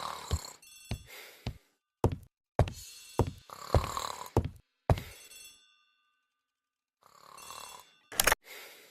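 An old-fashioned telephone bell rings in a hall in the video game Agatha Christie: The ABC Murders, sounding as a string of loud, sharp bursts that stop for a couple of seconds, then start again.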